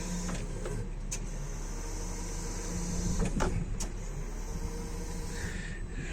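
Hydraulic side-shift carriage of a 2016 Toyota 8FBEKT16 electric forklift moving, a steady electric motor hum with a low whine and a few faint clicks and knocks throughout.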